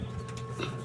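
A female quail is caught and held in the hand, giving brief soft cooing chirps over a low rustling background, close and fairly quiet, with no talking.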